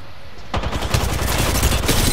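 Wingman pistol fire in Apex Legends Arena bursts in after a brief quiet moment, a loud, rapid string of close gunshots that continues to the end.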